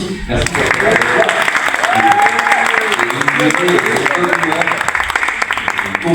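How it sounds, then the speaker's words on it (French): Audience clapping for a TV show team at a casting event in a community centre, a thick continuous applause with voices and some whoops running through it. "donc on les applaudit aussi"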